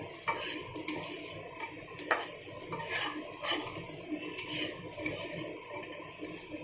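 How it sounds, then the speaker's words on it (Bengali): Fish frying in hot oil in a pan over a medium flame, stirred again and again, giving a steady crackle with repeated light metallic clicks and scrapes of a utensil against the pan, close by and with no talking. "আর এটাকে বারবার কিন্তু নাড়াচাড়া করতে হবে, না তো তলায় লেগে যাবে, পুড়ে যেতে পারে"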